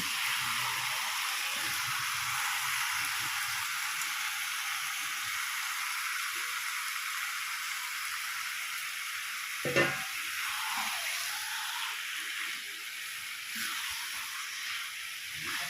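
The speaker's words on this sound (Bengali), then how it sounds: "এবার আমি দিয়ে দিচ্ছি ম্যারিনেশন করা চিকেনটাকে" Marinated chicken for chicken rezala sizzles steadily in a hot pan, a continuous bright frying hiss with light stirring scrapes and one sharp clatter near the middle, no voices.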